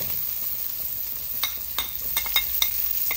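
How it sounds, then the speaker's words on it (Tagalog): Garlic sautés in oil that was used earlier to fry potatoes and carrots for a chicken curry, giving a steady sizzle with a few quick scraping stirs near the end. "Diyan din tayo nag-gisa sa ating prituhan sa patatas at sa carrots."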